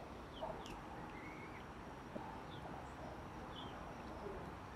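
Young chickens clucking softly in a quiet indoor space on a cold day: a few faint, scattered clucks and peeps over a low, steady background hush.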